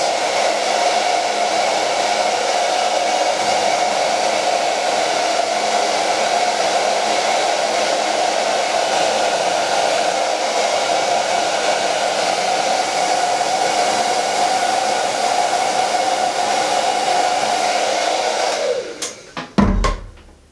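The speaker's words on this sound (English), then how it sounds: "So I'm going to take my blow dryer." A hair dryer blows with a loud, steady whir and airy rush for a long stretch, then cuts off with a few clicks and clunks at the end.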